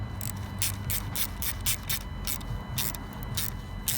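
A T30 Torx screw being tightened on a P2015 repair bracket fitted to an Audi/VW 3.0 or 2.7 TDI engine gives a close run of irregular ratcheting clicks and small metallic scrapes, with no voices.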